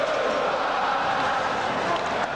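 Hockey arena crowd at a 1993 Devils at Islanders playoff game singing, a dense steady roar of many voices filling the building throughout.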